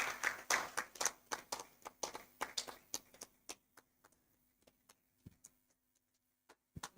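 Applause for a youth advisory board member at a democracy and governance forum: a small group claps briskly at first, then the claps thin into sparse, isolated single claps in a quiet room.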